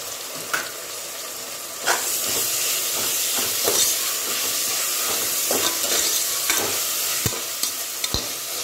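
Tomatoes sautéing with mint and coriander in a pan, a steady close sizzle of frying broken by scrapes and taps of a spoon stirring against the pan, no voices.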